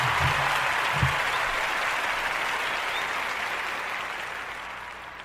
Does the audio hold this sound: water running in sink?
no